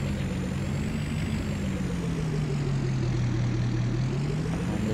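Dump truck engine in Farming Simulator 19, a steady, loud, close drone with a slowly shifting pitch that runs through the whole stretch with no voices over it.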